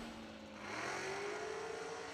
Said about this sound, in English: man, that car's loud.